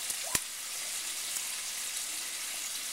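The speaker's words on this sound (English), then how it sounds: "We're frying up a storm here" Shrimp frying in oil give off a steady, bright hiss of sizzling, close and continuous, with a sharp clack near the start and a few faint pops.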